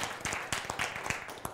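An audience at a lecture claps in a brief burst of scattered, fairly close hand claps with an uneven rhythm.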